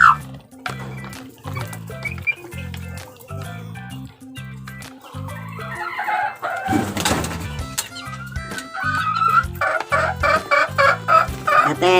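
Chicks and hens in a coop, steady peeping with low rhythmic clucking, close and fairly loud, with a brief burst of clatter in the middle.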